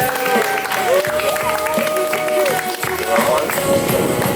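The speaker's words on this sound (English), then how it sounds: "Let's give them a round of applause while we have this little photo break" Wedding guests in Cairns, Australia applaud the couple during a photo break, sustained clapping with music playing underneath and a few voices mixed in.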